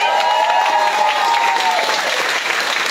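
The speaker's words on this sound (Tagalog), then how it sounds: "Malakas na palakpak kay Mama Ray." Strong, steady applause from an audience honouring Mama Ray at a coaching training session, dense and loud throughout with crowd noise mixed in.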